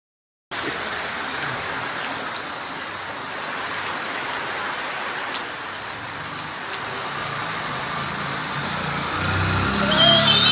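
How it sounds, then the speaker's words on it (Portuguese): Steady rain falls at a reservoir dam on the Rio da Caixa in Rio do Pires, Brazil, a dense continuous hiss of drops on surfaces that grows slightly heavier toward the end, with no talk. "Uma bela chuva aqui."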